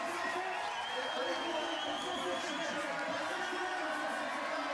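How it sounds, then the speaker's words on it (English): A French crowd at a canoe slalom race in Vaires-sur-Marne roars and cheers in a dense, continuous wash of distant noise, steady throughout with no clear breaks. "This is getting loud in Vaires-sur-Marne now. The encouragement from that French crowd"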